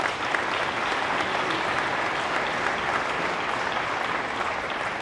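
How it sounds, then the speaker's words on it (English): Loud, dense applause fills a press conference room for the Bennett family at ASU, a sustained roar of many hands clapping evenly from start to finish with no talk over it. "Round of applause for the Bennett family."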